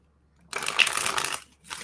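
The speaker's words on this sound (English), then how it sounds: "Seeing the Ace of Swords when I'm shuffling." Tarot cards being shuffled by hand, a dry papery riffle starting after a brief silence and running about a second before a short pause and a second burst, close and fairly loud with no talk.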